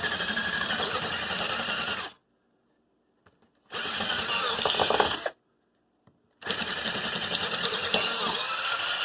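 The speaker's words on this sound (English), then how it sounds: "This drill bit is about the biggest that will fit in this drill." A power drill boring with a large bit, driven in three loud, close bursts of strained whirring with crunching cutting noise, separated by short silent pauses.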